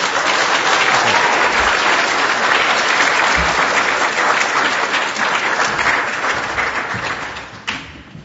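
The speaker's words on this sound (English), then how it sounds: "big round of applause" An audience breaks into applause at the end of a talk, dense sustained clapping from a large crowd that holds steady before tapering off near the end.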